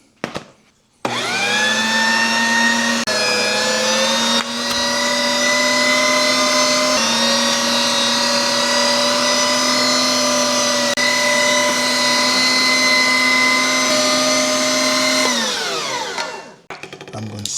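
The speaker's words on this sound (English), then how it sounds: "Then we will grind the second time on the smallest to give me a finer grind." An electric meat grinder runs steadily for about fifteen seconds, grinding beef trimmings through its smallest die for a finer second pass, a loud whining motor hum with sharp start-up and a winding-down tail.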